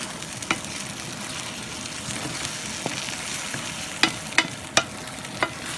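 Scrambled eggs frying in a pan, a steady close sizzle with a few sharp clicks and taps of a utensil against the pan toward the end.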